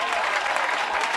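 A worship crowd claps in dense, steady applause, loud and close, for a brief burst with no clear cheering heard.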